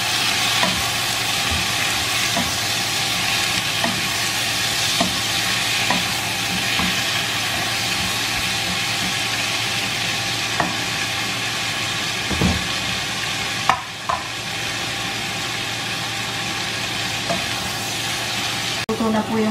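Onions and tomatoes fry for chicken biryani, giving a constant loud sizzle as a utensil stirs and scrapes the pan in repeated light strokes, with a brief heavier clunk partway through and no talk.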